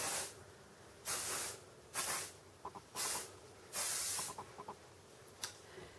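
Volume Lift hairspray lacquer from an aerosol can, sprayed in about five short hissing bursts separated by pauses and soft handling clicks, close and fairly quiet with no talking.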